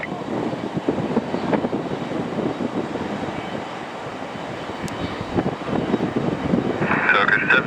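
Airliner landing at Düsseldorf Airport, a broad steady engine roar with low rumble filling the whole span, swelling slightly louder toward the end.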